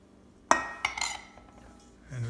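Metal utensil clinks against a mixing bowl while flour, sugar and salt are stirred together, a few sharp taps followed by softer scraping, close and fairly quiet.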